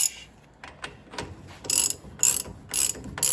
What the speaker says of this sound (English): And to do that, I will torque it. I will use a wrench.